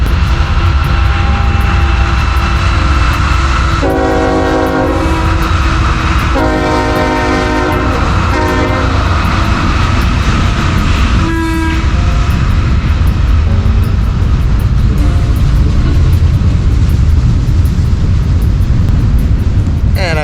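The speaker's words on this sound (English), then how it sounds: "there is a train going by just now as we speak." A freight train rolls past the Station Inn in Cresson, Pennsylvania, a steady near rumble with repeated horn blasts sounding in bursts, loud and continuous throughout.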